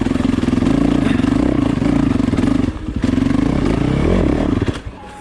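Yamaha YZ450FX dirt bike engine lugging at low revs over rocks on a trail, a steady loud mid-range thrum with a dip midway, then tapering off toward the end.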